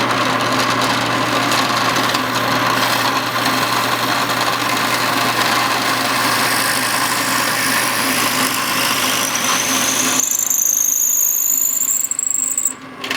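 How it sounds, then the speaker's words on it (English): Drill press in a knifemaking shop fitting a handle block to the hidden tang of a san mai hunting knife, a steady whirring motor hum that runs throughout before cutting off, with a rising high whine near the end. "So I'm going to bring us over to the drill press, and we're going to get this handle block fit up to the tang."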